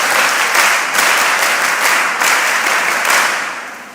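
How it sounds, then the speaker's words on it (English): Participants in a mentorship session give a lively round of applause, many hands clapping in a steady dense wash that swells, holds, and tapers off toward the end. "give yourself another round of applause"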